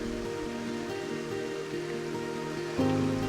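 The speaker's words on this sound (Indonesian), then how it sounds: "Air terjun akan mengalir lebih deras jika curah hujan sedang tinggi." Moss-covered waterfall about 15 meters high in Sibolangit forest, a steady continuous rush of falling water heard fairly close and unbroken throughout.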